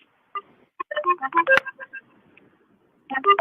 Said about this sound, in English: Hold on, it's ringing right now.